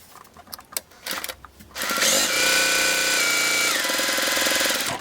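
Sewing machine back-stitching a fabric mask closed, a few scattered clicks and handling taps followed by a loud, steady mechanical whir of rapid stitching that runs continuously to the end, close up.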